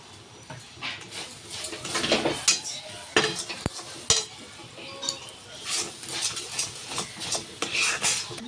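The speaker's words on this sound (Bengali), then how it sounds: "এটা কিন্তু ক্রমাগত নাড়িয়েই যেতে হবে নিচে লাগলেই কিন্তু পুড়ে যাওয়ার সম্ভাবনা" Gobindobhog rice sandesh mixture with ghee being stirred in a kadai, a steady scraping of spoon on metal with intermittent clinks and knocks, close and busy throughout with no talk.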